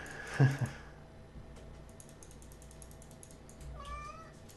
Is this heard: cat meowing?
yes